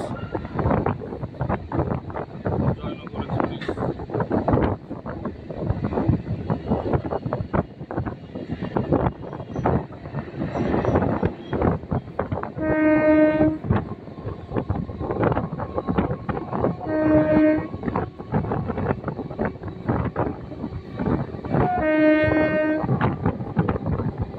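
Train at Sealdah station with heavy rumbling and wind-blown noise throughout, while three loud sustained horn blasts sound at intervals over the steady roar.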